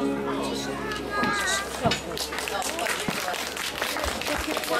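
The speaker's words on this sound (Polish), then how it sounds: "Wielkie brawa!" Audience applause and cheering for a kindergarten children's performance at an outdoor parish festival, a dense crowd wash with a few voices and a sharp clap or thud standing out.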